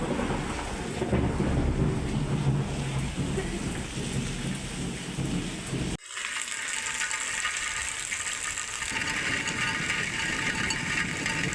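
Heavy monsoon downpour over a village, with thunder rumbling beneath a loud, continuous wash of rain and a brief dip in sound partway through.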